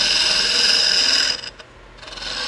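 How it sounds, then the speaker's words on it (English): A homemade cutter ground from a ball mill bites into spinning wood on a lathe, a loud close rasping scrape with a bright whine that drops off sharply midway, then returns more quietly. "Now this is a cutting tool, and it can get pretty aggressive."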